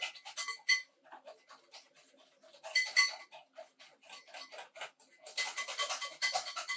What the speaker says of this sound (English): Give it a nice little whisk at the end.